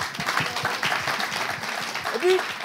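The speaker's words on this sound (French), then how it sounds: "applaudissements pour lui." Audience applause for Togocom's Santa Claus at a lively hosted event, a steady burst of clapping with a voice talking over it and a brief tonal call near the end.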